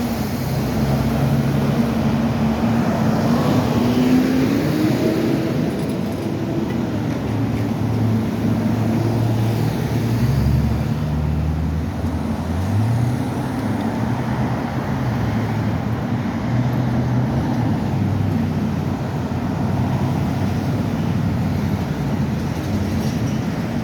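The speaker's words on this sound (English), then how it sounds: "That car's cutting across way too many lanes at one time." Car traffic drives along a road beside a bike lane, making a continuous, loud rumble of engines and tyres with passing vehicles blending into steady road noise and no voices.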